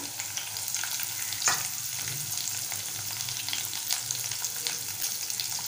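Curry leaves and green chilli pieces frying in hot oil for tomato semolina upma, a bright, steady crackling sizzle with a few spatula taps, close and uninterrupted by voices.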